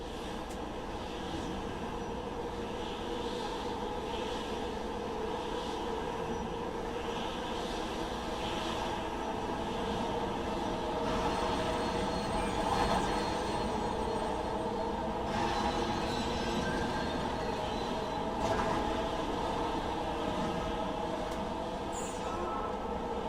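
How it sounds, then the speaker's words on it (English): A tram passes on rails with a steady, low rumble and rolling clatter that swells slightly midway and carries on for over twenty seconds at moderate loudness. "Tram, or whatever the hell you want to call it."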